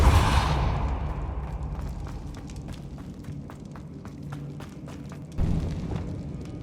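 Depulso force spell cast in Hogwarts Legacy, a deep booming impact with a whooshing release that fades, followed by faint clicks and a second softer thud near the end.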